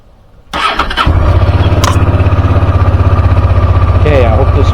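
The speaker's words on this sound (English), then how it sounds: "I'm going to start the bike" A motorcycle engine cranks briefly and catches, then settles into a loud, steady, throbbing idle close by, with a single click partway through.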